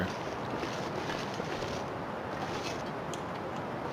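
Wind in the video game The Long Dark blows as a steady, broad rushing noise, moderately loud and unbroken, with no talk.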